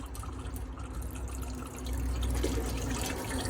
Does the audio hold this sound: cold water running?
yes